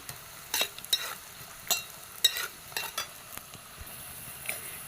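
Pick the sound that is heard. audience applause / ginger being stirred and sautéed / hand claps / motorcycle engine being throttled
ginger being stirred and sautéed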